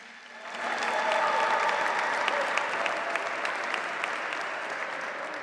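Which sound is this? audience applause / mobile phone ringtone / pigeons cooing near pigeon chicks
audience applause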